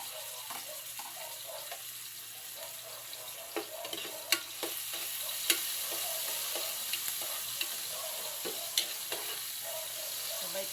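Garlic and tomato frying in a pan, a steady close sizzle with occasional scrapes and clicks of stirring throughout.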